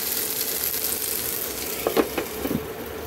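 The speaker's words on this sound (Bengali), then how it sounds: "এমনি দুটো কাঁচা লঙ্কা দিয়ে দেবো, ভেজে নেবো" Two whole green chillies frying in a pan for a home meal, giving a steady, close broadband sizzle with a few brief spatters and pops in the last second, alone without voices.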